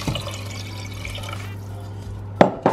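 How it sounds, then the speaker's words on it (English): Water runs and splashes into a pot while a Christmas pudding mixture is made in a home kitchen. A steady low hum sits underneath the pouring, and a couple of sharp clinks of utensil or pot come near the end. "To that, I'm gonna add 18 fluid ounces of water."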